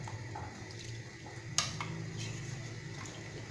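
Water stirred into rice in a pan while cooking paella-style rice, a quiet scraping and swishing of a utensil against the pan with soft sharp clinks, faint and close, with no talk.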